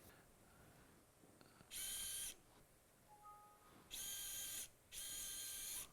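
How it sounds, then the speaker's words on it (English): A surgical drill runs a 5 millimeter cannulated reamer over a guide wire into bone, whining in three short high-pitched bursts separated by quiet pauses with faint handling clicks in between. "now over this, we're going to ream with a 5 millimeter reamer"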